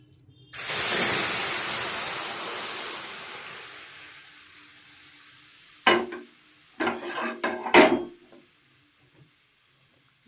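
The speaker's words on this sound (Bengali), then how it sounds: "এবার আমি দুধটা দিয়ে দেবো।" Milk is poured into a hot pan of fried bay leaf and cardamom, bursting into a loud hiss that slowly fades. Several short scraping, clattering stirs follow close by, with no talking.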